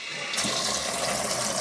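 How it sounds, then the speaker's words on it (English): Water gushes into a salvaged washing machine tub in a steady, loud rushing pour that starts abruptly and continues without talk. "I'm going to put a little water in."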